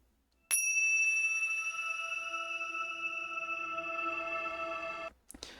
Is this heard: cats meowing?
no